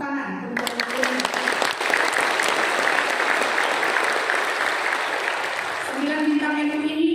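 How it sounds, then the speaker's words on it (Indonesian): Audience applause at a doctoral promotion session for an Islamic university, a voice speaking at first, then loud sustained clapping filling the room, with talk returning near the end. "Tepuk tangan untuk UNINUS."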